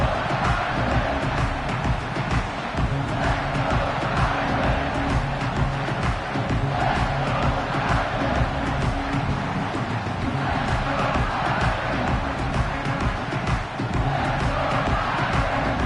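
A college football stadium crowd roars continuously and loudly during a punt return, a dense sustained wall of cheering with a commentator's voice faintly underneath.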